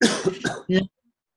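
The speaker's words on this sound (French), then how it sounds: "je t'entends tousser" A man coughs three or four times in quick succession over an open microphone during an online talk, close and loud, then silence.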